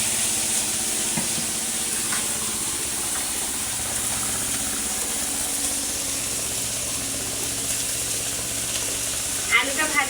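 Potatoes fry with turmeric powder in a steady, moderate sizzle and hiss that runs continuously, with a few soft clinks of stirring near the end.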